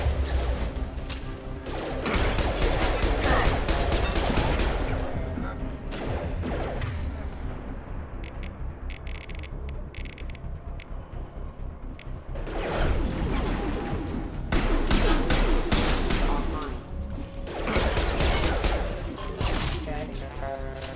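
Gunfire and crashing impacts in the video game Mass Effect 2 during a combat encounter, loud dense bursts in the first stretch, a quieter lull, then another heavy flurry of shots and smashing sounds, with voices at times.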